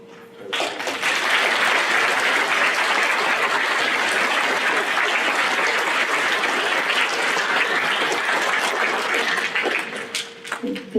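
Audience applause at a high school Veterans Day program honoring veterans, a dense, steady wash of clapping lasting about ten seconds before tapering off, with no voices over it.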